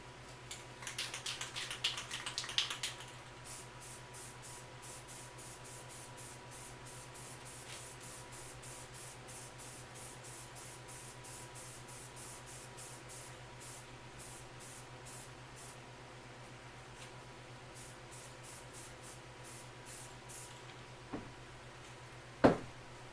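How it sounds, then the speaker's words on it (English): Rust-Oleum satin spray paint hisses onto plexiglass in a long burst, then in many short, evenly spaced puffs, with a final brief spray near the end, all fairly close and without talking. "I'm just using a Rust-Oleum satin"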